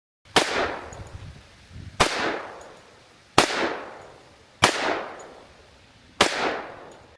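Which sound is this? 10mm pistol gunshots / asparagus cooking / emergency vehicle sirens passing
10mm pistol gunshots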